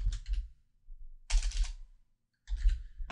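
Three short bursts of typing on a computer keyboard, entering meme caption text, each a quick cluster of clicking keystrokes separated by brief pauses, close and fairly loud.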